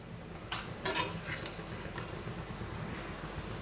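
Melting jaggery and poha stirred in a pan for ladoos, with a few metallic spoon clinks against the pan over a soft continuous frying hiss, close and fairly quiet, no talking.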